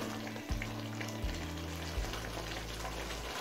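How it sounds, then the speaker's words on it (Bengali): Chicken for chicken do pyaza simmering over a high flame as its cooking water reduces, a steady sizzling bubble with a low droning hum running beneath it throughout. "এবার হাই ফ্লেমে জলটা কমে আসা পর্যন্ত রান্না করে নেব।"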